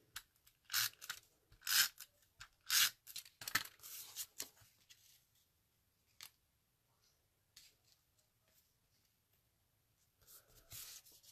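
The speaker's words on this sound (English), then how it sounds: "and then we're going to tape it." Tape pulled and torn for a Stampin' Up! paper craft project, a cluster of sharp ripping bursts early on, then sparse quiet crinkles and taps, close up with no talking.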